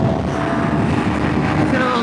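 Kawasaki Ninja 500 motorcycle accelerating on a highway, engine roar blended with heavy wind rush, loud and steady throughout.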